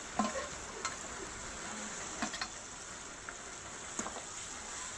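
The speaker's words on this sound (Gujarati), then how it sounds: "હવે નાખશું આપણે ટમેટા." Tomatoes go into a pan of frying spinach and are stirred in. A steady, fairly loud sizzle runs throughout, broken by a few brief scraping stirs, with no voices.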